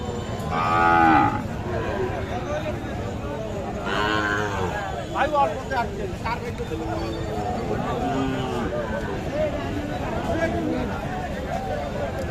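Cattle at a livestock market moo repeatedly, a loud close low near the start and more calls through the crowd, with people talking steadily in the background.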